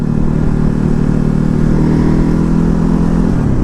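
A 2019 Ducati Hypermotard 950 is ridden on a test ride, its engine loud and close with a steady, throbbing drone that shifts pitch slightly near the end.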